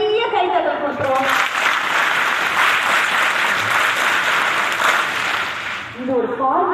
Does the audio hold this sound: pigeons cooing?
no